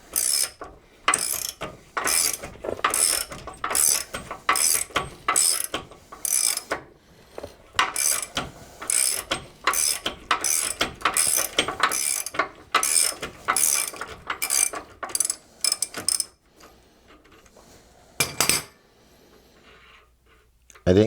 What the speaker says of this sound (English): So the front bolt's now spinning. Go ahead and get a wrench on that.